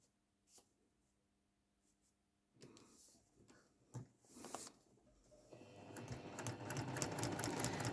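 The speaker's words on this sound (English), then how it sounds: "And I'll come back to the sewing machine" After some quiet handling and rustling, a sewing machine starts up close by, its needle stitching in a fast, steady mechanical whir.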